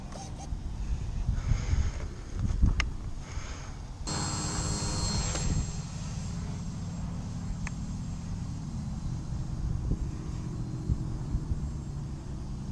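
A model Stearman biplane's engine drones at a distance on its test flight, a steady rumbling buzz with a louder surge partway through, and no one speaks.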